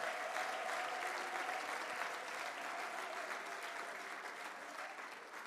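A church congregation breaks into loud, sustained applause during a worship service, the many hands forming a thick, even roar that holds steady before easing slightly toward the end.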